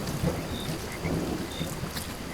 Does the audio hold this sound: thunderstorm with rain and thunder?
yes